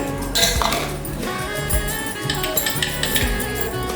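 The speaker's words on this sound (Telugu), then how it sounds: "ఈ పెరుగు ఇందులో వేసేసి మనం చక్కగా చిలుక్కుందాము" Curd is put into a metal bowl and whisked to make buttermilk for majjiga pulusu, producing close, steady clinking and scraping of a utensil against the bowl in quick irregular strokes.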